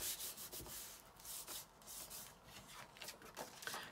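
Quiet, steady rubbing of a hand or tool over paper while a junk journal with a curved spine is being made. Soft, irregular scuffing strokes sound close up with nothing else.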